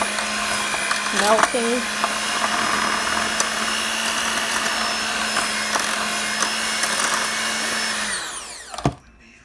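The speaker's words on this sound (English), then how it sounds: "I'm just going to take a hand mixer, kind of mix up the butter to get it" A handheld electric mixer whirs steadily through half a stick of butter in a home kitchen for hamburger steaks, running loud and constant for several seconds before cutting off with a clatter while a voice talks briefly.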